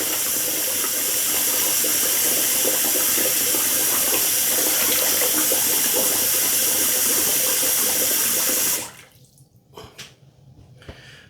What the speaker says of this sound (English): Gotta try and keep the water from running out of my sink here.